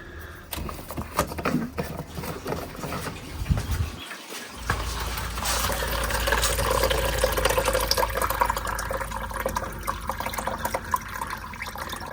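Coolant drains from a Smart 451 electric drive being stripped for spares, a steady splashing liquid stream that starts after a brief pause and then runs continuously, close and moderately loud.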